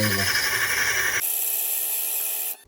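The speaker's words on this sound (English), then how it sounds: "I'm going to flick the machine on. Slowly lower our carbide burr. This will create the face of our" A GRS Graverhone machine grinds a carbide burr into the face of a graver, making a close, loud, harsh whining rasp that suddenly shifts to a thinner high-pitched hiss before cutting off.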